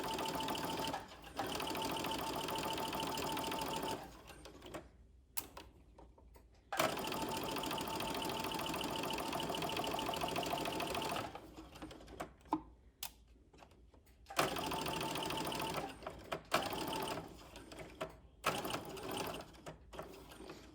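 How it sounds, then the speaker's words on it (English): A sewing machine stitches a French seam in slippery charmeuse fabric, running in long steady bursts with a few short pauses and brief stops between, close up, with no talking. "that'll help avoid getting that fabric sucked down into the machine"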